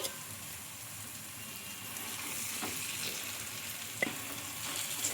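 Mashed boiled potato goes into a hot tempering and is stirred, with a steady sizzle and frying hiss plus a couple of soft stirring knocks, no talk.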